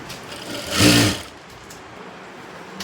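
A sewing machine stitches a blouse, working on the back side where the hooks go, in one short run of about half a second, close and fairly loud in a quiet room.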